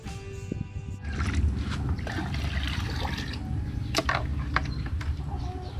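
Water poured steadily for washing, a continuous close splashing and gushing that starts abruptly and runs for several seconds with a few louder drips and splats.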